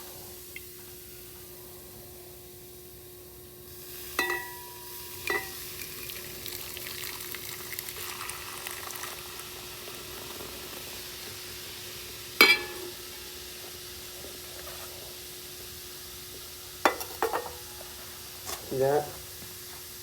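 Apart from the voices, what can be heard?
nitric acid boiling while dissolving silver during gold refining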